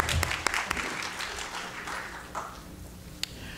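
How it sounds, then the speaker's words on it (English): Applause from a conference keynote audience, a steady wash of clapping with a few sharper claps standing out, fairly even throughout. "we can give her another applause"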